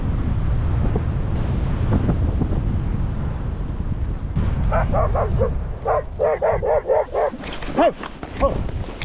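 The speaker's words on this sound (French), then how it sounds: "sauf que là je me suis fait attaquer par un chien" A dog barks in a quick run of sharp, close barks after a paraglider lands at Millau in the evening, heard over heavy wind noise on the microphone.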